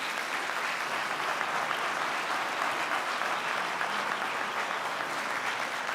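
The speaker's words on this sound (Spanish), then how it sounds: "Aplaudamos, ¿no?" Steady audience applause at a tourism promotion campaign presentation, a dense unbroken wash of clapping from a sizeable crowd holding an even level for the whole stretch with no talk over it.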